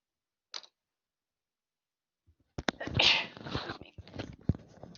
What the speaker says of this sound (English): If I sneezed right in your ear